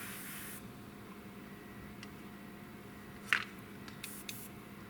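A short hissing burst of K-Colors lacquer thinner sprays from a can onto painted surfaces of a Tamiya P-47M scale model, followed by quiet handling noises and a brief click.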